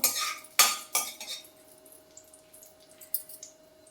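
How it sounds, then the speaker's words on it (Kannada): Cashews and almonds fried in a spoonful of ghee for radish payasam: sharp metallic clinks and scrapes of a spoon against the pan, several early knocks followed by softer stirring sounds, close and alone. "ಗೋಡಂಬಿ ಮತ್ತು ಬಾದಾಮಿನ ಹಾಕ್ತಾಯಿದ್ದೀನಿ. ಇದು ಗೋಲ್ಡನ್ ಕಲರ್ ಬರಬೇಕು, ಅಲ್ಲಿವರೆಗೂ ಫ್ರೈ ಮಾಡ್ಕೋಬೇಕು."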